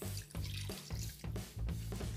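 Water poured into a cooking pot holding beef cheeks and coconut cream, a close, steady splashing pour with a few uneven surges and drips, with no voices over it.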